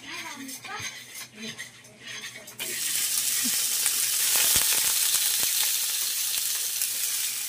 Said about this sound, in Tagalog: akin po munang ipiprito ng kaunti po yung ating scrap na salmon